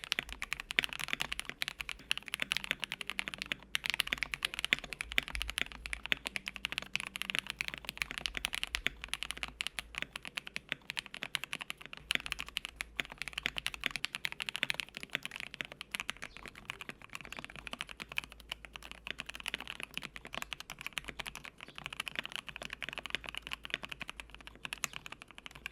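Rapid, steady typing on a mechanical keyboard fitted with JWick Black and Durock Lavender switches, filmed and unfilmed, gives a dense stream of crisp, close clacks with no voices.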